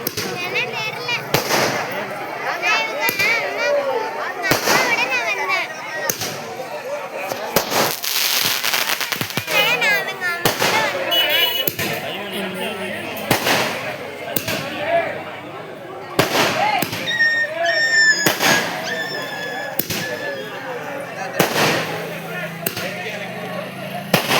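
Rapid, irregular bursts of firecrackers popping nearby, sharp cracks scattered throughout with excited voices shouting in the background.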